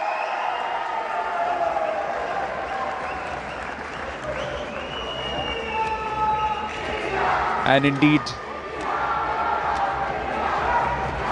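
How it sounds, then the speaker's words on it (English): Crowd cheering and applauding at a World Boxing bout in Noida, a steady roar of the arena audience with a commentator talking over it. "some cheers from the crowds"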